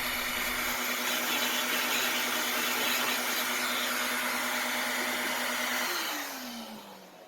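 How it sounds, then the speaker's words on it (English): A Dremel rotary tool running at high speed to bevel the plywood bow of a wooden model ship, giving a steady high whine for about six seconds before it spins down with a falling pitch. "This kind of work is best done with a very light touch and a high speed on the Dremel tool."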